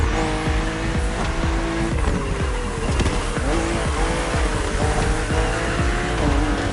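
Race cars in The Crew Motorfest roar along a narrow, twisting track, engines droning and shifting pitch with repeated tire squeals and skids throughout, loud and close with no talk.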